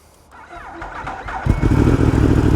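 A Yamaha R1M sport motorcycle fires up at a track day: a brief starter whir, then the engine catches and settles into a loud, steady, close-up idle rumble.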